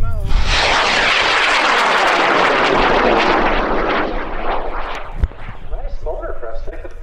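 A high-power rocket motor roars off the pad at an amateur launch event in Argonia, Kansas, a loud sustained rushing blast that slowly fades as the rocket climbs, with a voice speaking near the end.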